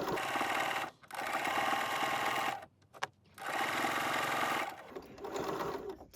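A sewing machine stitches a cushion cover with black thread in three close bursts of rapid, steady mechanical whirring, separated by brief pauses, with no one speaking.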